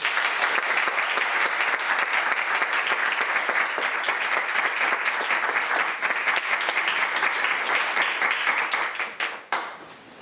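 Sustained audience applause following a lecture on art, science and ecology, dense and steady for about ten seconds before tapering off near the end.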